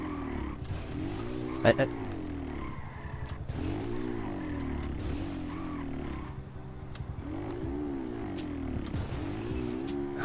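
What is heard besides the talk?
Honda Pop 110i motorcycle riding in GTA V video game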